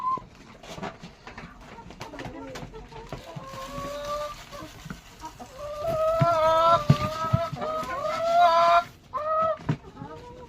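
Chickens cluck and squawk while being fed vegetables, the calls coming close and loud in overlapping bursts that swell toward the end, with a voice and adult talk mixed in.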